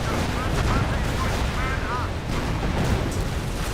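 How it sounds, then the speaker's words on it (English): Dense artillery fire and battle noise from a Company of Heroes 1 match, with Hellcats and Geschützwagens fighting: continuous heavy booming and crackling throughout, loud and unbroken, with a commentator's voice over it. "Also got artillery."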